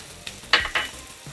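Curry leaves dropped into hot oil give two quick, sharp bursts of sizzle and crackle, close and brief, then settle to a low frying hiss.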